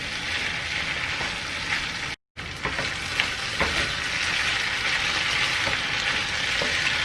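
Diced potatoes and ground beef fry for empanada filling in a pan, making a continuous close sizzle with popping crackles and a brief dropout to silence early on.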